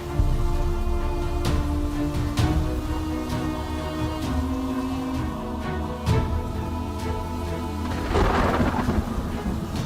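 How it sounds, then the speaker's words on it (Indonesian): Steady rain falls on surfaces while thunder rumbles and cracks several times, one louder close crash near the end, with no talking. "Memang lagi hujan"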